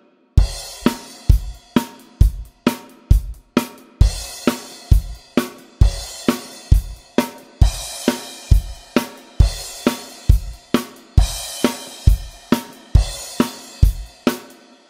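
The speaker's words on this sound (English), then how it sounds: "So that's going to happen on the count one when you add the crash cymbal." A drum kit plays a steady rock beat with regular kick and snare hits, and a crash cymbal rings out on count one of each bar, adding a bright wash that decays across the bar.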